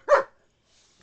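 A German Shepherd lets out a single sharp bark at a zucchini, a short, close burst followed by quiet.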